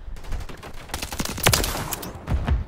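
Suppressed gunfire in Call of Duty Modern Warfare with a UMP submachine gun, a flurry of muffled shots and clicks in irregular bursts across the clip, fairly close and without talk.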